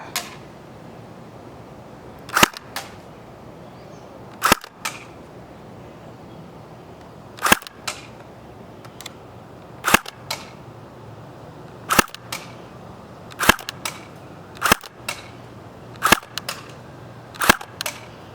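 Tokyo Marui MP7 airsoft gun with hop-up fires 0.2 g BBs through a chronograph, giving about a dozen sharp, quiet snapping shots at irregular intervals of one to three seconds, alone with no talk.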